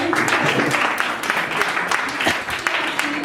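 Crowd applause at a Rise Against Extremism community event as organizers are introduced, a dense steady patter of claps mixed with a murmur of voices throughout.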